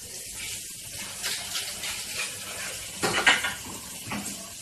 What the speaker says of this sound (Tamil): இதில் வந்து ஒரு 8 கிளாஸ் தண்ணி ஊற்றிருக்கிறேன்